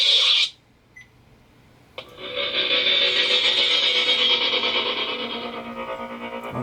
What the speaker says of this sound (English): With a custom smooth swing sound added to it that's totally unique.